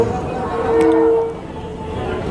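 A train sounds its horn at a crowded Pune railway station, a loud sustained tonal blast over rumbling platform and rail noise, with a murmur of voices in the background.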